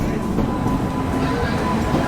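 Steady rumbling interior noise of a moving train carrying people to Kannur, a continuous low roar with rattling and no clear voices.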